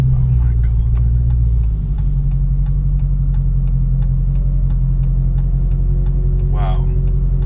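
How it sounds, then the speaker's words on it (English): A 2018 Dodge SRT Demon engine rumbles loudly and steadily with a deep exhaust drone, rising slightly in pitch as it pulls, with a brief voice near the end. "And that exhaust, you can't beat that noise."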